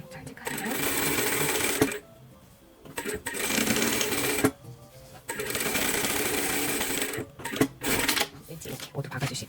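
A sewing machine stitches the bottom hem of a lace-trimmed lining at a 1 cm seam allowance, running in loud bursts separated by short pauses while someone talks.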